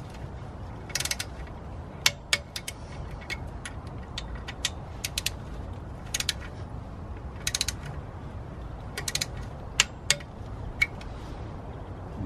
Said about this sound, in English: So you just use a 5mm Allen socket, and then that's how you tighten them down in the hub.